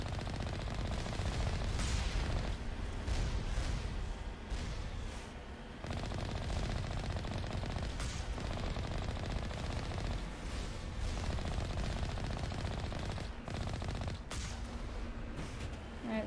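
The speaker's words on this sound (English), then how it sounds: "Wait, heavy alliance turret?" Heavy Alliance turret in the Mass Effect video game fires in long sustained bursts, a dense rapid stream of shots that runs loud and continuous with brief dips.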